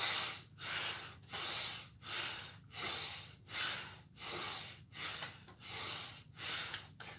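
Steady, deep yoga breathing in an office stretching session, close and soft, with about eight slow, even cycles of hissing inhales and exhales through the nose or mouth, each breath separated by a brief pause.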